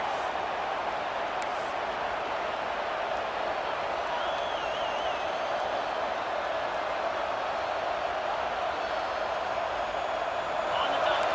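A home stadium crowd at a Penn State versus UCLA football game roars as a continuous, dense wall of noise with a faint whistle-like tone partway through, loud and unbroken throughout.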